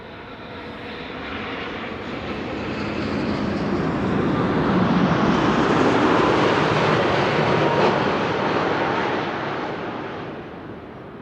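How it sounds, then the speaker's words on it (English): An Air Canada Boeing 787-8 Dreamliner arriving at Amsterdam Schiphol from Toronto roars overhead, its jet rumble swelling from moderate to loud in the middle and fading again over about eleven seconds, with no voices. "This is Air Canada Flight 808, arriving from Toronto, Canada, 7878 Dreamliner."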